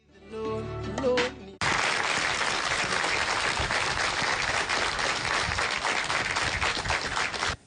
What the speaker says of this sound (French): Des applaudissements pour souhaiter la bienvenue au président de la République Macky Sall